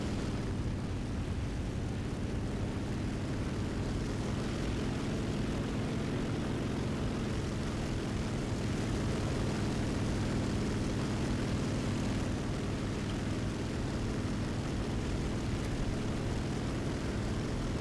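Propeller aircraft engines drone steadily in a combat video game, a continuous broadband roar with a low throbbing hum that never lets up, no voices over it.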